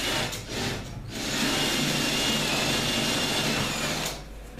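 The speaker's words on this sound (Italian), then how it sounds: "trapano una batteria con una punta da 10 mm, io foro prima gli angoli" A cordless drill with a 10 mm bit whirs steadily for a few seconds as it bores corner holes in a kitchen countertop for a sink, close and loud, starting and stopping abruptly.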